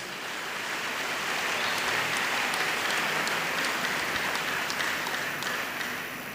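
Church crusade audience in Yaoundé applauding and cheering for Jesus Christ, a dense, even wash of clapping sustained across the whole stretch, loud and continuous.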